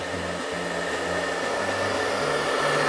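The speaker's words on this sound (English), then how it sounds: "Hair can be burned by a blow dryer too." A handheld hair blow dryer runs steadily throughout, a loud close whirring hum with a broadband airy rush, its motor pitch shifting slightly a few times as it is moved or adjusted.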